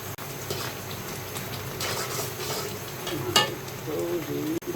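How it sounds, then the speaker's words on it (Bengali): Rice flour being stirred little by little into a boiling mixture of palm, coconut and jaggery for Talgara pitha, a steady bubbling sizzle with scraping stirs, a brief clatter near the end. "এখন আমি চালের গুঁড়াটা দিয়ে দেব, অল্প অল্প করে দিব।"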